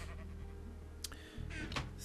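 Short sheep bleats from the video game Minecraft, a couple of brief cries over a steady low game background hum, moderately near.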